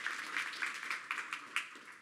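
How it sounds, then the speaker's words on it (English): Faint, distant audience applause at a MedTech demo day, a steady wash of many hands with a few slightly louder bursts throughout, no voices over it. "So another round of applause."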